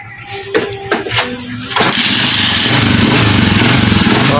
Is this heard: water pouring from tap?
no